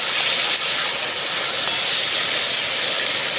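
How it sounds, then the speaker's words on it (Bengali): Mutton kosha sizzles loudly in a pan after water is added, a dense steady hiss of steam and spitting liquid running unbroken and close throughout. "তার জন্য আমি বাটিটা ধুয়ে একটু জলটা দিয়ে দিচ্ছি, নিয়ে আবার ভালো করে কষিয়ে নেব"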